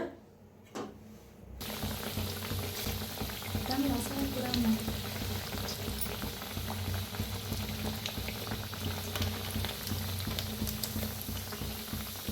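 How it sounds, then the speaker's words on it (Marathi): A boiled egg drops into hot oil and begins frying, with a strong, continuous bubbling sizzle that rises after a quiet start and holds steady to the end. "दुसरं बी दाखवते तळून"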